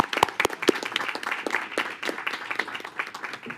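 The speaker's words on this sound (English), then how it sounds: "Let us give a round of applause." Applause from the audience at a school board trustees' meeting greets the new board president, a brief burst of scattered clapping of moderate loudness that stays fairly even.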